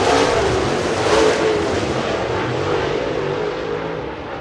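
Race cars roar through turns 3 and 4 at Cherokee Speedway, a loud sustained engine drone from the pack, with no talk.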